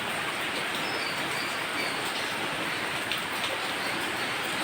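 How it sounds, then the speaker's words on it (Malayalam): Heavy rain that has been pouring since morning makes a dense, steady roaring hiss, unbroken and fairly loud, with no voices. "തകർത്ത് വാരിയൊന്നും മഴ പെയ്യുക രാവിലെ മുതൽ കേട്ടോ"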